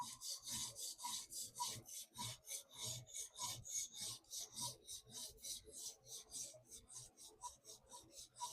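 Rhythmic rasping strokes of a Monterey Bay Sabertooth knife blade drawn across a TSProf diamond sharpening stone, steady back-and-forth passes repeating about three times per second, close and moderately quiet with no talking.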